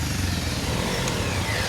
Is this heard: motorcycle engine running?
yes